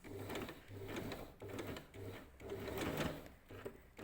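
A sewing machine stitches the seam of a pair of summer shorts in short, rapid bursts of mechanical whirring with brief pauses between runs, heard close up.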